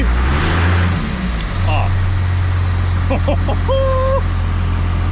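A first-generation Dodge Cummins truck rolls along at around 40 mph, its diesel drone steady and loud throughout, with a brief voice exclamation partway through.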